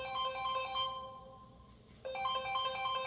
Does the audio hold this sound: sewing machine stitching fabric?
no